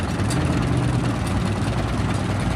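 An old gasoline-powered tractor engine at a tractor show, running a threshing machine with a steady low rumbling drone and dense mechanical noise, loud and continuous.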